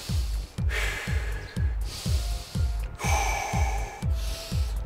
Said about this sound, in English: couple more deep breaths